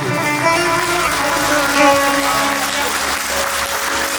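Wedding guests applaud steadily, a loud wash of clapping from many hands. Music or voices with sustained tones run underneath the whole time.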